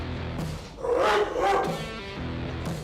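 A guard dog gives a couple of loud, close barks in a short burst, set against a low steady hum and some faint background voices.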